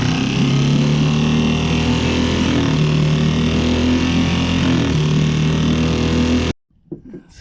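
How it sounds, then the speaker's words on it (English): A small engine, brought back after repair work, runs loud and steady with a rough, constant drone for several seconds, then cuts off abruptly, leaving a few faint knocks. "fuel valve on. Give it just a little bit of gas there."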